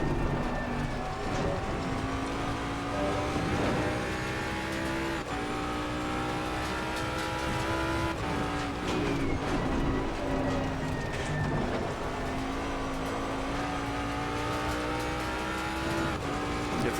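A Jaguar race car engine in the video game Assetto Corsa Competizione at Oulton Park drones and revs continuously, shifting pitch through gears, with tires squealing intermittently, loud and steady throughout.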